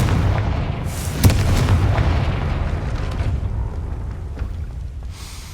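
A Confringo spell blast in the Hogwarts Legacy video game: a loud, close boom bursts out early, then a rumbling, crackling tail slowly fades, with no talking.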